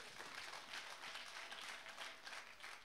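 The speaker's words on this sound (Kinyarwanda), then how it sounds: "Mureke tuyikomera amashyi iyo Mana yacu." A church congregation applauds God together, a steady wash of many hands clapping heard faintly and evenly throughout.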